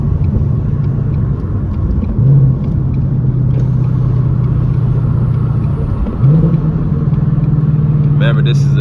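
A car fitted with a BBK cat-back exhaust drones low and steady as it pulls through the gears, with audible shifts where the engine note dips and climbs again, and a voice talks faintly under the rumble.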